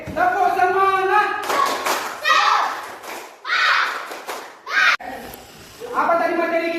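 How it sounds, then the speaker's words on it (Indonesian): Schoolchildren perform a rhythmic spirit clap, with sharp clapping bursts between chanting young voices and an adult leading the class. "Tepuk semangat."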